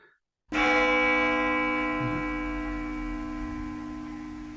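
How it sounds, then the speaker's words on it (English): A large bell is struck once, a loud close strike with a long sustained ringing tone and rich overtones, slowly decaying over several seconds with no voices. "whenever we listen to the sound of a bell that has attained maximum self-resonance"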